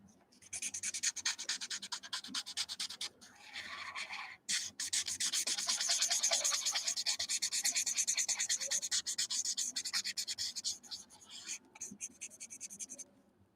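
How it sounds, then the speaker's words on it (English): Chisel-tip Copic alcohol marker coloring on paper, quiet, steady rubbing and scratching strokes in a circular motion with brief pauses, under a soft speaking voice. "if I use the chisel and I go round, my markers don't streak as much"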